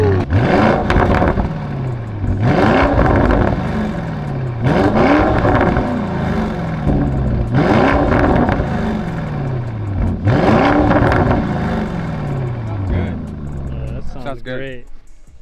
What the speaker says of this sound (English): these came in stock with a Krapovich exhaust, right?